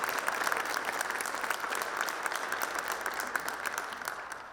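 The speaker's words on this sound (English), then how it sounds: "if we can just give them a round of applause for this discussion" Steady applause from an audience at a breakfast event, dense and sustained throughout at moderate level, with no voices standing out.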